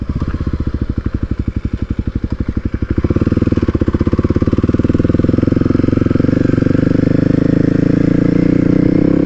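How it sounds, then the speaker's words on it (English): A small, noisy motorcycle ridden on the road, its engine loud and close with rapid, even firing pulses that build in pace and intensity partway through, then hold a steady, dense drone. "until I get there with this noisy little bike"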